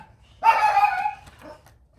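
A single dog bark or yelp from a dog passing by indoors, one short sharp call followed by a fainter trailing whine against a quiet background.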